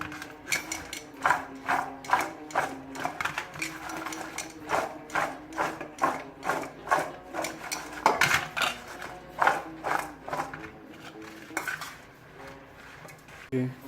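Carrot and chilli pickle is stirred in a container, producing a fast, regular series of clattering, scraping strokes, each a short clink of utensil against vessel, close and moderately loud throughout.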